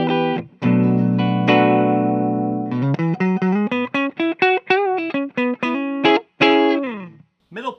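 A 1998 Gibson Les Paul Doublecut Standard electric guitar played through the neck pickup, with a sustained chord followed by a run of picked single notes, clean and loud with a slight driven edge, and no talking.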